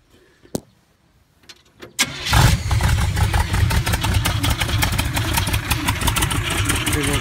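A punched-out big block Chevy 454 with a huge cam and gear drive cranks briefly after a few clicks, then fires and settles into a loud, lumpy, rumbling idle that continues steadily up close.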